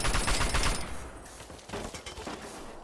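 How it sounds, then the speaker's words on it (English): Sustained minigun fire in the video game Fallout: A Tale of Two Wastelands, a dense, loud burst of rapid shots that dips then resumes at a lower level. "fire those miniguns, men!"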